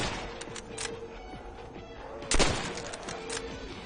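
Gunshots in Call of Duty: World at War Zombies aimed at an in-game radio: one loud sharp shot stands out over a quieter tonal background, with a few fainter cracks around it.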